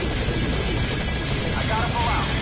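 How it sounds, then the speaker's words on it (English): Helicopter in Metal Gear Solid 5: Ground Zeroes, a steady rotor drone and engine buzz filling the whole stretch at even loudness, with a voice speaking over it. "Get on the chopper."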